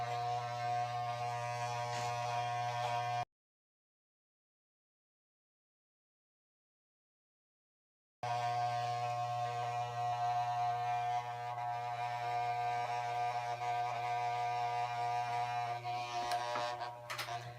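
Electric hair clippers buzz steadily with a strong low hum as they cut hair, close and constant, cut off by a few seconds of complete silence before the same drone resumes.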